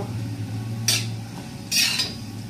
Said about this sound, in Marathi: हे बघा मस्त असं कढीपत्ता आपला असा एकदम तेलामध्ये फ्राय झालेला आहे